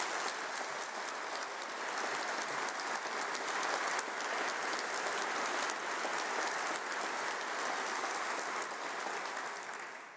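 Sustained applause from a large audience at a university graduation ceremony, dense steady clapping that fills the room and tapers off at the end.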